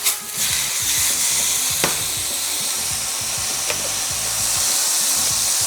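A ribeye steak sears in a hot pan, producing a loud, close, continuous sizzle with a couple of faint clicks and no talking.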